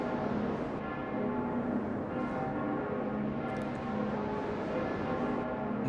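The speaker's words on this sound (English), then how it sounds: "Ah, I can hear the sound of the bells." Bells ring continuously in the Fate/Grand Order game, a steady sustained peal with layered tones and no voices over it.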